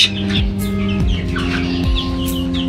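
Several Egyptian Fayoumi chickens clucking close by on a poultry farm, overlapping calls and short squawks in a busy, continuous flurry.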